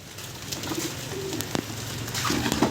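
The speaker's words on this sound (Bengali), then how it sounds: "আর যে দেখুন বাগবাগি পায়রাগুলো" Pigeons coo softly nearby, a few low murmuring calls over a faint steady background hiss.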